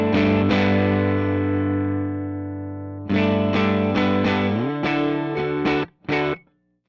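Electric guitar played loud through a Matchless The Baby amp with the master control turned all the way up, driven and distorted, a long ringing chord decaying before a run of choppy, rhythmic strummed chords ending abruptly.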